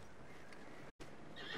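A horse in the video game Red Dead Redemption 2 gives a quiet, brief neigh, with a faint clip-clop of hooves. It is low in level and heard alone, without speech.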